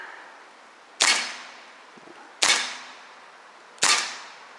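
Three sharp shots from an Umarex HDR 50 revolver firing paintballs, spaced about 1.4 seconds apart, each a loud crack with a short decaying tail over quiet background.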